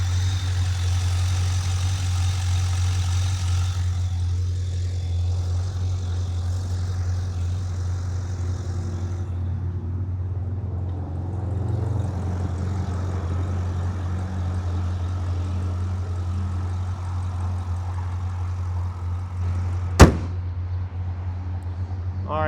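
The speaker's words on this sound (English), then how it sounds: "Under the hood here, there's your LS7 427 in action. You can hear it idling." A 505-horsepower LS7 427 V8 in a Corvette C6 Z06 idles steadily under the open hood, a low, even rumble holding for the whole stretch, with a single sharp click near the end.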